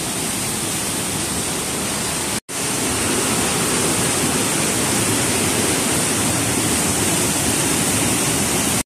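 Lasir waterfall at Tasik Kenyir roars as a loud, continuous broadband rush of falling water heard up close, steady and unbroken apart from one abrupt split-second dropout.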